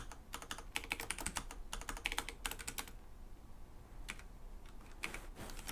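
Computer keyboard typing during a Doom game stream: quick, faint clusters of keystrokes come in bursts separated by short pauses, close to the microphone and with no talking.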